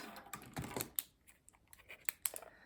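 Quick, quiet plastic key taps on a calculator as numbers are entered, irregular clicks in short clusters with near silence between them, close and soft.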